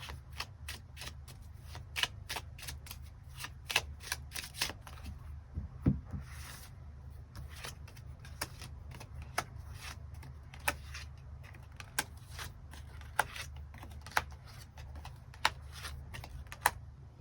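Tarot cards get shuffled and drawn in a quiet room, a long run of crisp, close card snaps and flicks at uneven intervals over a low steady hum.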